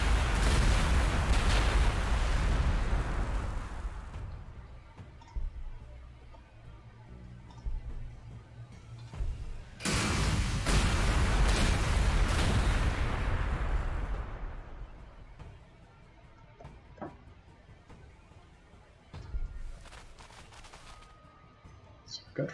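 Video game gunfire and explosions in a wooded area, loud crackling bursts that swell and fade twice, with scattered quieter shots between and a voice speaking over the action.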